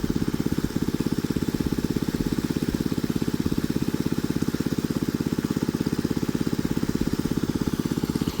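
Engine-driven water pump running steadily in a rice field during drought, a loud continuous mid-pitched chugging drone with regular rapid pulses, close and alone throughout.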